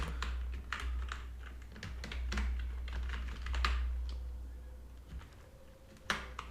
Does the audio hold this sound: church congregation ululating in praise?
no